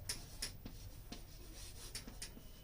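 Chalk or marker taps and scrapes across a classroom board in short, irregular strokes and clicks, fairly faint against a low room hum, with no voice present.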